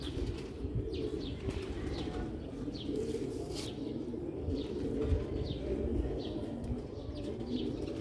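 Black-faced Sialkoti pigeons coo repeatedly in soft, rolling calls over a low, continuous rumble, with a few faint chirps mixed in nearby.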